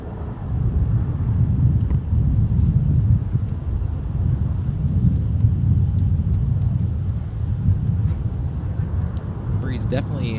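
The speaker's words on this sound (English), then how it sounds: "Breeze definitely picking up a little bit again." Steady outdoor wind at Minneapolis–St. Paul Airport, a broad low rumble with buffeting against the microphone that holds loud and continuous throughout, with no clear talk over it.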